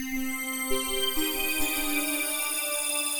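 A bright, buzzy wavetable synthesizer tone, generated by machine learning, holds steady with shifting pitches, full of shimmering high overtones, playing alone without any voices.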